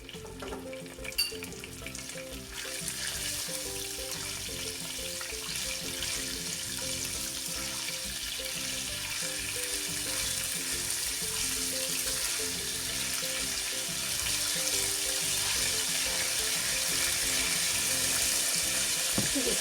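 Cumin seeds frying with squash in a pan give a steady, continuous sizzle and crackle that grows slightly louder over time, close and alone with no talking.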